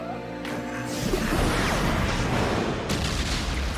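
A loud, rumbling blast, a prisoner turned into an explosion in an anime, with a crashing, debris-filled roar that sustains for a few seconds before easing slightly.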